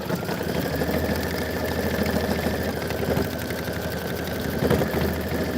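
A Kimberbell embroidery machine stitching a body fill at full speed, a rapid steady mechanical chatter of needle strokes with a constant motor hum, even and close throughout.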